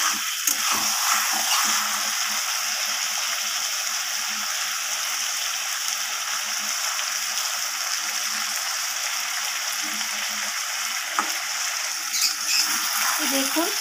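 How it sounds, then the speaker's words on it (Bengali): Fish pieces with potato stir-fried in a pan with a spatula for a spicy fish curry, making a continuous hissing sizzle with occasional scraping and a few light knocks near the end. "দেখুন, আরও একবার আমি কষিয়ে নিচ্ছি এইভাবে মাছটা"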